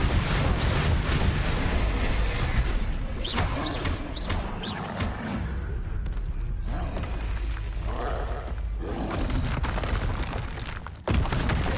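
Booming, roaring blasts from the Bombarda spell in Hogwarts Legacy fill the whole stretch, loud and continuous with rumbling swells and crackling bursts.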